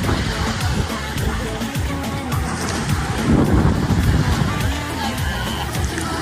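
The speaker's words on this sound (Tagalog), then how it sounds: "Tingnan, lakas ang alon," Strong sea waves at a beach in Lobo, Batangas, a continuous loud wash of surf mixed with gusty wind buffeting the microphone, with voices murmuring faintly underneath.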